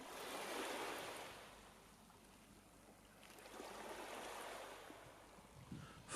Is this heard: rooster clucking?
no